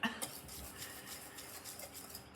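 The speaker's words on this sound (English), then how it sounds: "And then I will whisk them together." Ingredients for butter rolls are whisked together in a bowl, producing a quick run of soft, rhythmic metallic taps and scrapes, close but faint.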